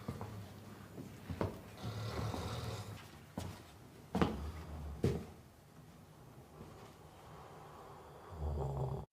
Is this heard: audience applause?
no